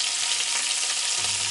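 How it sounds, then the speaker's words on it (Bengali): Onions poured into hot oil in a home kitchen, frying with a bright, even sizzle that holds steady throughout, with a faint low clatter near the end. "আমি সোজা তেলটা গরম করে ওর মধ্যে পেঁয়াজটাকে ঢেলে দিচ্ছি"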